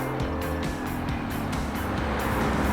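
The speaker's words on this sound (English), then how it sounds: "This is a 5-liter V8" Lexus LC 500 with its 5-liter V8 driving under steady throttle, a continuous deep engine drone with low rumbling harmonics and road noise, loud and close throughout.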